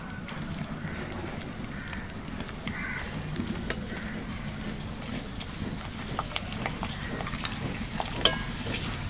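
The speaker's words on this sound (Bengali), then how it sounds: "আরও কয়েকটা পাঁপড় আমি ভেজে দেখিয়ে দেব।" Maida papad frying in hot oil, a steady dense crackle and hiss running throughout at close range, with a few faint clicks and one brief louder tap near the end.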